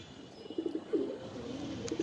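Pigeons at a pigeon farm giving soft, low rolling coos close by, a few phrases in a row over faint background noise, no talking.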